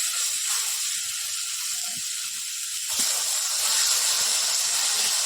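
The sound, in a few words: masala spice paste frying for crab curry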